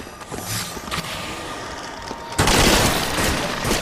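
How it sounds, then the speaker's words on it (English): Rapid gunfire in the Dead Nation zombie shooter game on PS3, with power shots blasting through multiple zombies: a steady barrage of pops and bursts that swells into a louder, denser volley in the second half. "Hear all those heads popping."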